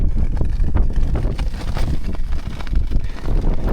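Cold wind blows hard across a microphone while camping in deep snow in the New Zealand winter wilderness, a loud, steady low rumble of buffeting gusts with no talking.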